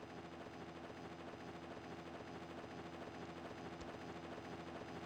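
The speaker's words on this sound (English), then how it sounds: "Their transport choppers approaching." Transport helicopters approaching in the Mega Man Zero video game, a continuous dense rotor roar that stays steady and fairly loud throughout, with no speech.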